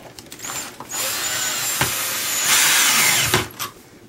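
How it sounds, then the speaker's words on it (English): A power drill whirs in steady bursts, revving up and easing off a few times as it drives a screw into a ceiling overhead while installing Venetian blinds. "Get my drill bit ready, put it in the screw, come up to the ceiling"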